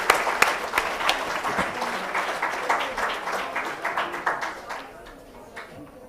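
A plenary audience at a sustainability education conference breaks into applause, loud and close at first with sharp individual claps, then thinning and fading toward the end.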